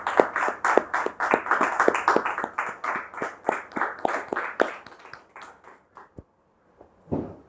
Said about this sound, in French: c'est avec justement des encouragements, des applaudissements que nous allons lui dire welcome et akwaba à cette émission.